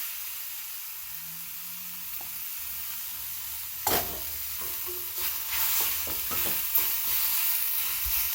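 Vegetable thoran with ground coconut paste is stirred in a hot pan, with a constant hiss of sizzling and a string of scraping, clattering stirs growing busier toward the end; no speech.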